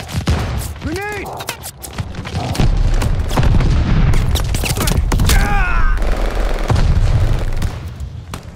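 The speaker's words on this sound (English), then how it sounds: "Grenade!" In a video game firefight, loud booming grenade blasts and bursts of gunfire crack in dense succession, with radio-style voice callouts mixed in.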